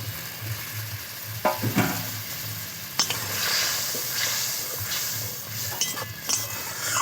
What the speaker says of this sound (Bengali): এবার ভালো করে ফুটিয়ে নেব